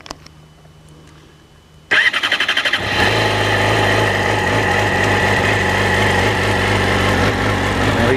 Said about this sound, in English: There we go, that's what a standard Yamaha R6 sounds like.